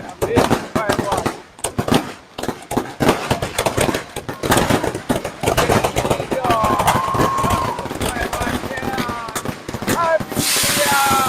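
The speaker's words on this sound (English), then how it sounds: "This is fireworks." New Year 2025 fireworks at KL Tower in Malaysia, a dense volley of sharp bangs and crackles in rapid irregular bursts, with crowd noise underneath and whistling rockets rising later.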